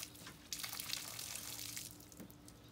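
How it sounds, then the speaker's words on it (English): Water runs and splashes through a homemade water fountain, a steady close trickling and gurgling with small drips, fairly quiet and without talk. "So let me turn on the water. That's the water fountain way."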